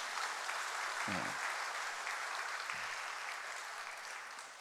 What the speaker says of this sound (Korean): 우리 잘 되라고 박수 한번 쳐주세요.